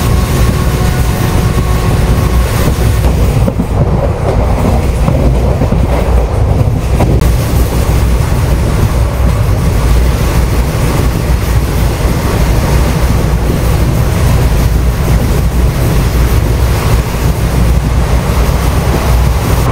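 A passenger train running fast on rails between Salem and Karur, a loud continuous rumble and rush of wheels and wind heard from on board, steady for the whole stretch.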